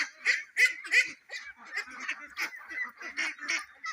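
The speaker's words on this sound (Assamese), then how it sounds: "ফাৰ্মৰ ভিতৰতে ওলাই আছে গৈ আছে এনেকৈ থাকে আৰু হাঁহকেইটা।" Colored ducks on a farm quack in a rapid series of nasal calls from several birds, close and fairly loud, overlapping in an uneven rhythm with no talk.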